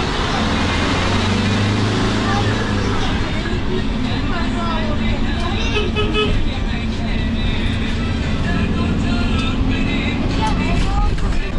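Interior of a minibus marshrutka riding through Istanbul streets, a continuous loud engine and road roar with traffic noise around, voices talking over it.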